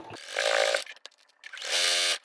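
Sewing machine running a straight stitch around a vintage quilt pouch: two fast, steady mechanical runs, each close to a second long, separated by a short pause with a faint click.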